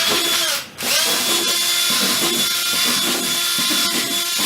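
A power drill with a 1/16 bit whines steadily at close range, drilling holes in a plastic bucket, with a brief dip in the motor noise before it keeps running, biting into the plastic.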